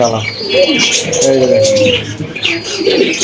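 Pigeons at a pigeon farm coo in repeated, close, throaty calls, with a few chirps mixed in and people talking nearby.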